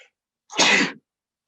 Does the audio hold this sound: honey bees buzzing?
no